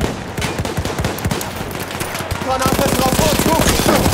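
Rapid hip-fire gunfire in Battlefield 1, loud close bursts of repeated shots that grow into a fast, dense rattle in the second half, with other battle noise around.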